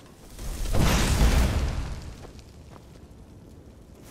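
A banner set alight in a video game, a loud whooshing burst of flame that swells over about a second, then dies into a low crackling rumble.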